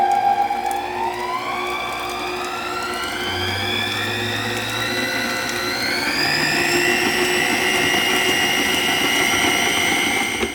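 An Acekool stand mixer with its whip attachment runs loudly, its motor whine climbing in pitch as the speed is turned up, then holding a steady high hum.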